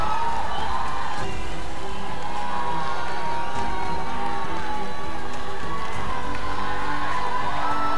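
A large crowd cheers and applauds at a dance competition grand finale in Arunachal Pradesh, a dense, loud, continuous roar with whoops and shouts that fills the whole stretch.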